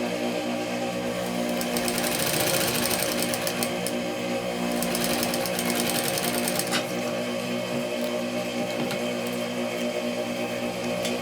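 Sewing machine stitching a seam close by, a steady fast mechanical whirr with a brief back-stitch at the start, running without pause for the whole stretch and no talk over it.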